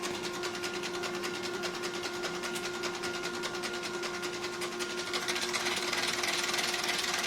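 A rebuilt Lucas CAV diesel fuel injection pump for a Ford 4610 tractor cranking on a test bench, giving a steady, fast mechanical clatter with a constant whine underneath, loud and continuous with no talking.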